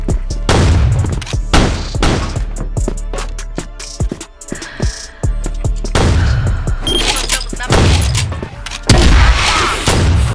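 Shotgun gunfire in a competitive video game match, a dense series of loud booming blasts and sharp cracks in quick succession with some shattering, close and continuous through the stretch.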